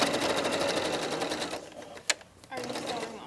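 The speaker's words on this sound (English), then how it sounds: "I'm just going to zigzag these seam allowances together." A sewing machine zigzag-stitches jacket neck seam allowances together, a loud, fast, even needle rattle that stops for about a second with a sharp click, then starts up again.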